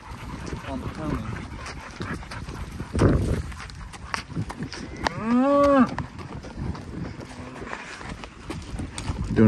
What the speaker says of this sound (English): Here's all the cows she's rounded up.